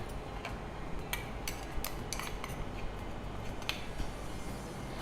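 A knife cuts ginger finely on a board, making rapid, light taps in uneven runs over a steady background hiss. The taps are moderately close and no voices are heard.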